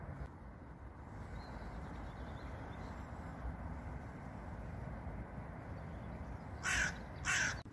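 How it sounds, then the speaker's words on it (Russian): Two loud crow caws ring out near the end over a steady outdoor rumble at a spring fishing spot on a calm day. "птички поют вовсю."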